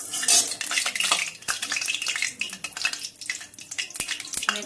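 Potatoes frying in hot oil crackle and hiss beneath busy clatter of a utensil scraping and knocking against the pan, with sharp irregular clacks standing out, close and fairly loud without speech.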